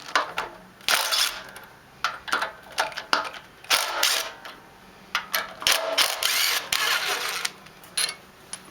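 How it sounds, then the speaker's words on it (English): Bolts on a pressure washer pump being loosened with a 9mm Allen key, close up: a series of sharp metallic clicks and scraping bursts in irregular rhythm, with no talking. "we have 3 bolts here, and it's a 9mm Allen key"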